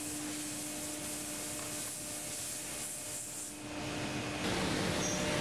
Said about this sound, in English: The CNC goes to work, making all the enclosure parts